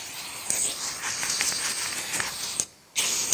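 Low-pressure compressed air hisses steadily as it blows black sand off a metal casting mold for a commemorative coin, a continuous close spray that cuts off briefly near the end and then resumes.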